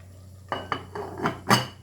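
A lid goes onto a pot of chicken sotanghon soup: a few light metallic clinks and taps, then one louder clank as it settles, close by in a quiet kitchen.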